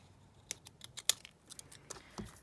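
Zigzag scissors snip through paper in a quiet room, several sharp, crisp cuts spaced irregularly with faint rustling between them, close and clear with no talking.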